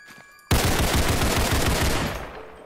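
A sudden, loud burst of automatic gunfire in the Roblox game Criminality breaks a near-silence and rattles on rapidly for about a second and a half before tailing off.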